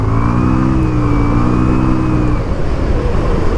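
Motorbike on a night ride, its engine revving with a rising, sustained whine for about two seconds before dropping away to a steady running rumble.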